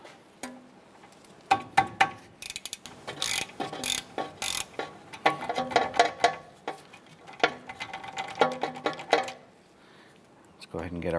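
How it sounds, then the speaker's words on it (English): A ratchet clicks in quick bursts while loosening two 10mm ABS sensor bolts at the rear wheel hub of a 2008-2012 Honda Accord, with sharp metallic taps and pauses and a voice talking at times. "We're gonna remove these two 10mm bolts."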